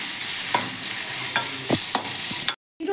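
Onions sautéing in hot oil for ulikal soppu palya: a steady close sizzle with a few sharp scrapes of a spoon against the pan, then a brief cut to silence near the end.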